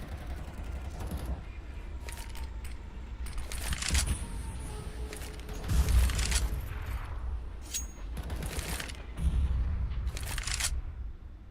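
Gunfire and grenade blasts from a professional CS:GO match at a major tournament come in several loud, crackling bursts spread across the stretch, with brief quieter gaps between them.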